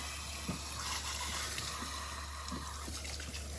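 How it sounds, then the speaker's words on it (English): Warm running water trickles and splashes steadily over permed curly hair during a rinse, a close continuous flow with soft irregular dribbles. "you're gonna rinse, I'll show you in just 1 second, as soon as I get this. There we go. With warm water."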